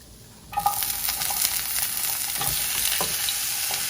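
Chopped onions drop into hot olive oil and start a steady, close sizzle that keeps up throughout, with a few light stirring clatters and no talk.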